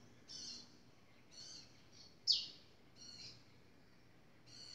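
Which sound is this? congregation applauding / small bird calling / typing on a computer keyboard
small bird calling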